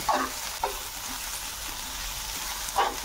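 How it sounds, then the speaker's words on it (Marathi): Cabbage and carrots stir-frying in a hot pan for veg hakka noodles give a steady close sizzle, broken by a few sharp spatula scrapes at the start, near the middle and toward the end. "पत्ता गोबी परतून घ्यायचं आहे आपल्याला छान। एक मिनिटभर आपण भाज्या परतून घेणार आहोत।"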